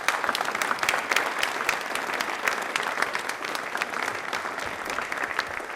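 Studio audience at a televised quiz programme breaks into loud, dense applause that holds steady for about six seconds with no voices over it.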